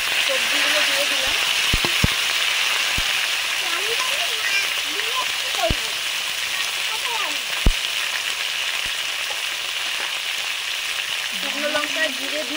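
Vegetables sizzle steadily in hot oil with cumin and dried chilli for a Bengali fish curry with cauliflower, potato and bori. A few sharp clinks of stirring sound over the sizzle while a voice talks.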